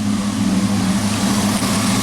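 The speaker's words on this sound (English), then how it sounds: "Car is running, and the windshield wipers are working, and the car is not stalling." A car engine idles steadily with the windshield wipers switched on, a continuous close, even drone with a strong low hum and no noticeable rev changes.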